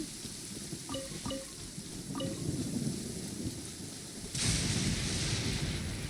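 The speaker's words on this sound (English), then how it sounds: "Where's lightning gonna strike next?" Thunder and rain in the Genshin Impact video game, a steady rain hiss with a few short crackling strikes and a sudden louder rumbling surge near the end, no voices.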